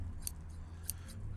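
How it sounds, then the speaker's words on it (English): Scissors in a VR paramedic game: two crisp, short metallic snips about half a second apart, close and fairly quiet over a low background hum. "Scissors."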